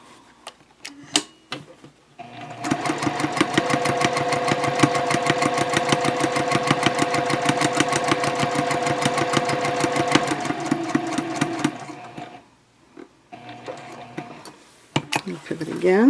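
A sewing machine stitches fabric for an eco-friendly shopping bag, running in one fast, steady mechanical rattle for about nine seconds, with brief clicks and handling before and after.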